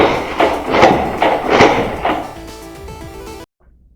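An X-Shot Turbo Fire toy blaster slam-fires foam darts in a quick burst of five or six loud thumping pops, then the shots stop and a faint clatter trails off before sudden silence.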